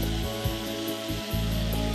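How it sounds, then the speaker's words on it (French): An electric sander with coarse grit-60 abrasive paper whirs steadily over repaired stone filler, a loud continuous motor drone with brief dips as pressure shifts. "Le ponçage s'effectue dans un premier temps à l'aide d'une ponceuse électrique et d'un papier abrasif numéro"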